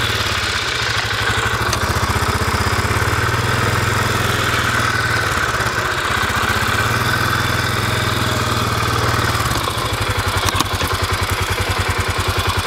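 A heavily overloaded truck hauling sand labours with a low, continuous engine drone and a steady rattling pulse as the front axle is engaged, loud and close, with no talk.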